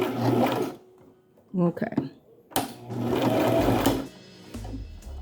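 A sewing machine stitches a fabric scrunchie in several close, loud runs, starting and stopping in short back-and-forth bursts, with a brief spoken word between runs.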